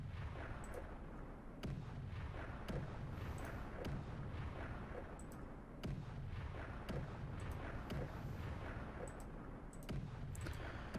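Artillery shelling in the Stalingrad war game Cauldrons of War, a steady rumbling barrage punctuated by sharp booming impacts every second or two, loud and continuous throughout with no talking.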